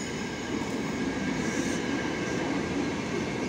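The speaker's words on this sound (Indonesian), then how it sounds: "Lokomotif berpapasan dengan KRL." Steady loud rumble of trains on the track, a locomotive and an electric commuter train passing each other close by, with continuous wheel and rail noise throughout.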